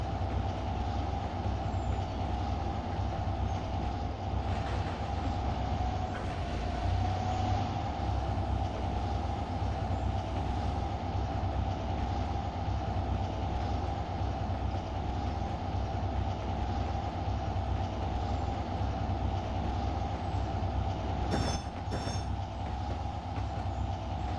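A train in a railroad simulator game rumbles along at full throttle and steady speed, constant low drone with a faint hum, a brief click near the end, no voices.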